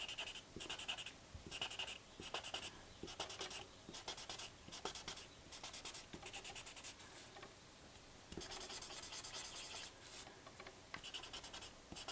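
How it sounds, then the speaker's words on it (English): A white colored pencil highlights a hand-drawn pattern, giving repeated close scratchy strokes in short bursts, near and fairly quiet, with no talk. "I'm going to come back with my white pencil and I'm going to highlight"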